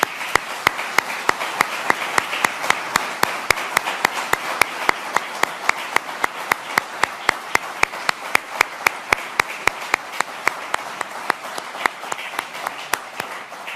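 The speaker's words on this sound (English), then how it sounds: "Stand up, Heidi, for a round of applause" An audience applauds the co-hosts of Newfoundland and Labrador's Come Home Year with close, loud, sustained clapping, individual hand claps sharply audible in a steady rhythm throughout.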